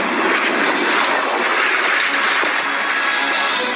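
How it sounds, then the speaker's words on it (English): A floatplane's engine roars loud and steady as the aircraft takes off from water in strong wind, its broadband drone unbroken and close. "As the plane's taking off and the float's starting to come off the water for the first time"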